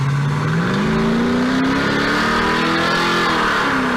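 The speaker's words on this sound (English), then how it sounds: "I can still hear it over the top of the Torana coming through behind" A Holden Torana race car at the Leyburn Sprints, its engine revving loud and close as it comes through, pitch climbing steadily then easing, continuous throughout with no talk.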